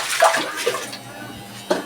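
Water being tipped out of a washing machine drum, heard as a few close, loud splashing pours with short gaps between them.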